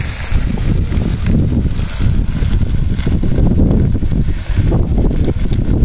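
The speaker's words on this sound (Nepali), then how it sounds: "हावा चलेछ फेरि।" Strong wind blows outdoors during a forest fire in Yashok, Nepal, a loud continuous roar buffeting the microphone in steady gusts, with no clear voices.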